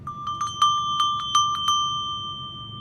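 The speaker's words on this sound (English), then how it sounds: "So, to get us there, I'm going to ring this bell." A single bell is struck repeatedly to clear the space during a calm relaxation session. Each bright ring is clear and close, sounding about eight times in an uneven rhythm, with tones that ring out and fade over a quiet background.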